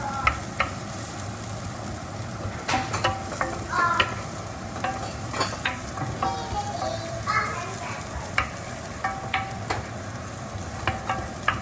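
Shallots frying in a pan while being made into shaking beef, a steady sizzle with stirring and scraping clicks throughout, some faint background voices.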